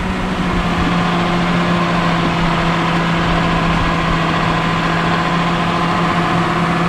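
A John Deere 6175M tractor engine idles steadily, a loud, constant low rumble with a steady hum and no change in speed, heard alone throughout.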